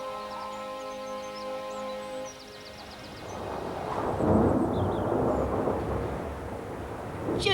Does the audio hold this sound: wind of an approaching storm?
yes